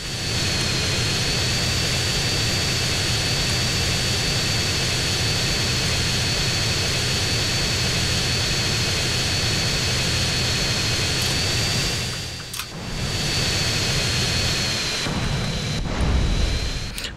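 Hydra jet aircraft engine in GTA San Andreas, a loud continuous roaring whine with a steady high tone, briefly dipping and cutting out near the end.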